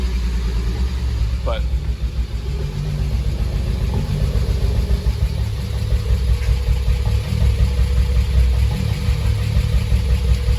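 An Acura Legend Coupe with a custom exhaust and headers, run after sitting for more than three years, idles steadily with a low, even rumble and slight roughness; a brief word is spoken over it.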